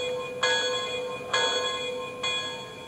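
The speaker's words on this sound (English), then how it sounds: "Here's the bell" Three evenly spaced metallic bell strikes from an MTH Norfolk & Western Class J 611 model steam locomotive in DCC mode, each ringing on with a bright, sustained tone over a steady hum.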